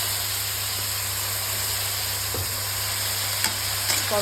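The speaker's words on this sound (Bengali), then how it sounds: "কালো জিরে দিয়ে এবার আমি কড়াইতে করলাটা ভাজা করে নেব" Bitter gourd with black cumin, turmeric and salt sizzles steadily in hot oil in a wok, a loud continuous hiss with a few faint clinks of stirring.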